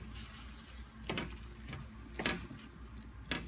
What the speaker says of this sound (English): Mix it all around.